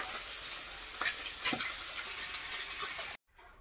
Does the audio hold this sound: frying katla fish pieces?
yes